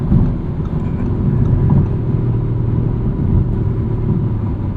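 A 2023 Audi RS5 Competition Coupe driving on winter tires, a loud, deep, steady engine and road rumble heard from inside the car without pause.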